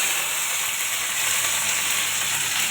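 Okra frying in hot oil, a steady close sizzle and crackle of the fried vegetable that holds even and unbroken throughout, with no talking.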